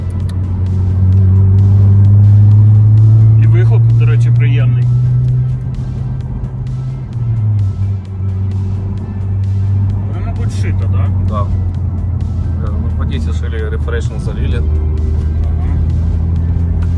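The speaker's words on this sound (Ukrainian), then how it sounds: "Я покатався вже трошки на Хонді, їде вона бадьора" Honda car engine in a racing video game, a steady droning hum that shifts pitch as it drives, heard under someone talking.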